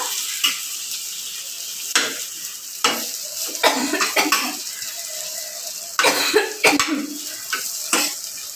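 Spiny gourd (kakrol) slices fry in a pan, a close sizzle broken by repeated sharp clinks and scrapes of a utensil against the pan, with a cough in between.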